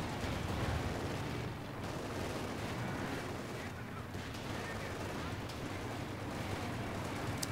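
Panther tank cannon fire and battle noise in Company of Heroes 2 as it engages M4C tanks, a dense, continuous rumble of gunfire and blasts with sharp shots mixed in, loud throughout.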